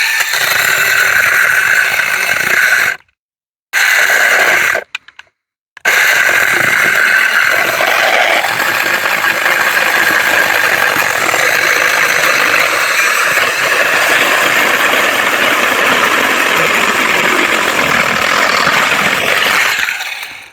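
A LIKI 6-inch mini cordless chainsaw with a 20V battery cuts under heavy pressure, its motor buzzing loud and close in a continuous drone that drops out briefly twice near the start, then runs steadily without stalling.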